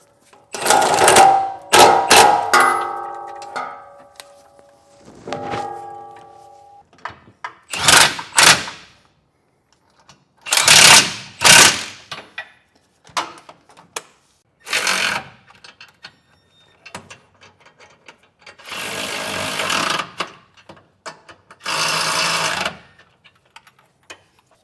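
An impact-style power tool snugs cross beam bolts with a 15/16 socket while a Curt underbed gooseneck trailer hitch goes in, coming as loud, close bursts of rapid rattling separated by quiet gaps.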